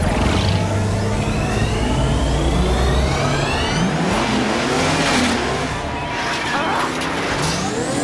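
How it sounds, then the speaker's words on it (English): The Paw Patroller's super speed engine powers up in a cartoon, a loud, sustained revving roar that climbs and surges for several seconds, with voices briefly over it. "That'll send all the power we have into the super speed engine."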